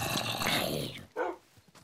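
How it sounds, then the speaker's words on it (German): A dog in the Minecraft video game growls in a rough, low burst that fades out, followed by a short second growl or yip after a brief gap, heard alone with no talk. "Jetzt habe ich auch einen Hund."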